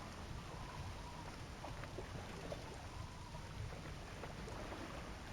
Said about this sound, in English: the rain gives us a very calming atmosphere